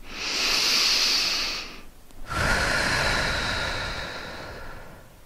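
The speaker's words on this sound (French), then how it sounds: "20 inspirations et je souffle longuement l'air. J'inspire." Slow, deep breathing during a sophrology relaxation session: a long airy inhale, a brief pause, then a long steady exhale that gradually fades, close and alone with no talk.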